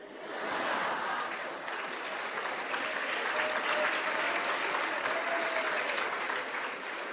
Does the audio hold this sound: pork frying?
no